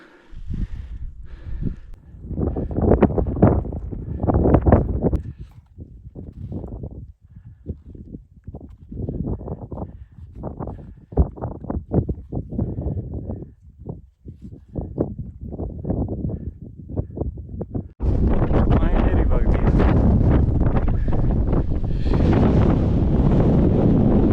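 Strong winter wind on Mount Lawrence Grassi near Canmore buffets the microphone in loud, uneven gusts, then settles into a continuous close roar for the last six seconds.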